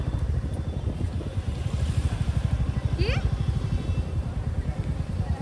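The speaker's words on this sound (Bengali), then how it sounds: "এই তো বাইক ঢুকছে তো প্রীতমের।" A motorcycle entering a parking area chugs steadily nearby with a rapid, even engine pulse, while a brief rising whine cuts through partway.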